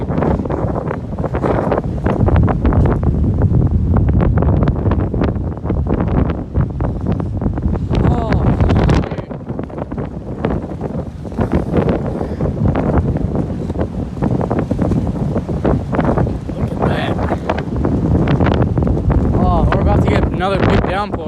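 Strong storm wind buffets the microphone in heavy gusts amid rain and tornado warnings, a loud continuous roar with rushing surges and brief lulls throughout.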